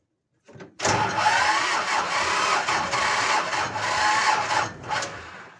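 A car engine cranks on its own battery with no booster pack, a brief click and then several seconds of steady, laboring starter churn, close and fairly loud, with no voices.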